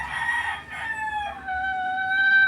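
A native rooster, the mother bird of the flock nearby, crows in one long drawn-out call that holds steady and rises slightly toward the end, close and clear with no voices over it.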